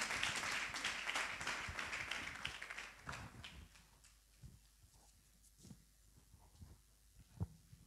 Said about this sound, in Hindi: आइए जोरदार ताली बजाएं, प्रभु के दास का वेलकम करें।